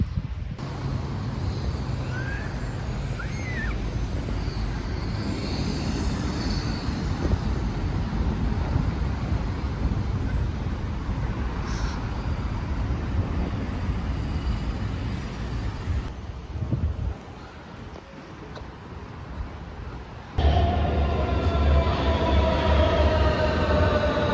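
Steady rumbling roar of a metro train ride in Kayseri, running continuously with faint wheel squeal and rushing air, the noise shifting as the train slows and a louder, brighter segment begins near the end; no talking.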